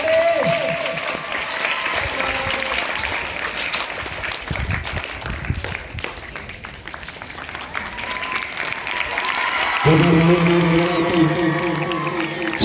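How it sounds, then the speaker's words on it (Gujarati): A crowd at a school event for the Shikshapatri anniversary applauds loudly to welcome guests onto the stage, with dense sustained clapping and some cheering, and sung or amplified voices rising over it toward the end. "તો જોરદાર તાળીઓથી એમનું સ્વાગત કરીશું"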